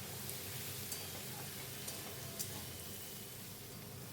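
Stalks and mixed vegetables stirred in a frying pan, a steady sizzle throughout with a few faint clinks of the spoon against the pan.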